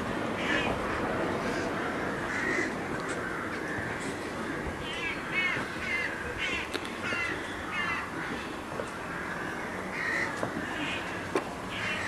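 Crows calling around a castle in Reszel, Poland: scattered caws over a steady outdoor background of wind and ambient noise, moderately distant and intermittent throughout.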